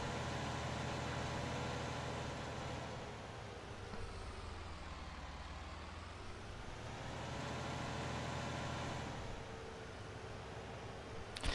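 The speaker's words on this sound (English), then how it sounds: "so you can actually hear me over the noise of the tractor" A tractor engine in the farming game Farming Simulator 19 drones steadily, a broad, loud hum with a constant low rumble that dips slightly midway and swells again, with no talk over it.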